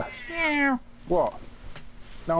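A pet cat down in a basement gives a long, loud meow, then a shorter second one and the start of a third, with someone talking to it in between.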